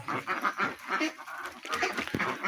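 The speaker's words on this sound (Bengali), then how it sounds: "দেখেন হাঁসগুলো দৌড়াদৌড়ি যাচ্ছে।" Farm ducks scurry about and honk and quack in a loose, overlapping flock, moderately near and fairly busy throughout.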